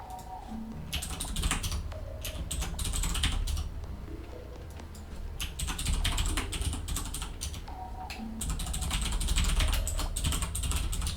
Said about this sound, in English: Sorry for the typing, guys.